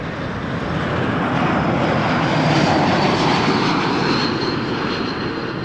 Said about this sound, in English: Clear for takeoff runway 23, Air Transat 558